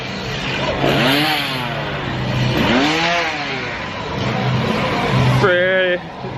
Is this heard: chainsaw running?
yes